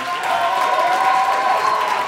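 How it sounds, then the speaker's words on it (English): A comedy society show's audience applauds at the end of the evening, a continuous wash of clapping and crowd noise that holds at an even level for a couple of seconds. "can we please give a huge round of applause for all those that did so well today?"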